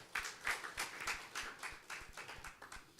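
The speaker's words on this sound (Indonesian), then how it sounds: "Tepuk tangan buat Tuhan" A church congregation claps at a Sunday sermon, a faint, steady run of about a dozen distinct hand claps in a loose, even rhythm, heard from some distance with no talking.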